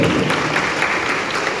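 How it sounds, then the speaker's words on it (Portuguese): Children at a mass in Jacareí, São Paulo, applaud together in a dense, steady burst of clapping that fills the whole short stretch at even loudness. "uma salva de palmas"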